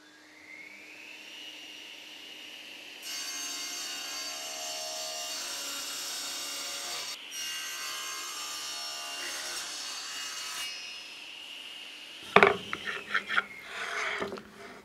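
Rough solid wood being crosscut for a workbench on a miter saw with the board clamped: the motor whines up, a long loud cut runs with a brief dip mid-way, then the blade spins down and ends in knocks and clatter.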